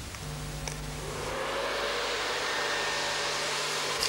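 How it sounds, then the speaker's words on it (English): A strong hand-held blow dryer roars with a steady, loud airy whoosh as it dries hair close by, rising slightly in intensity after the first second. "I'm blow drying the hair now here with a strong hand blow dryer"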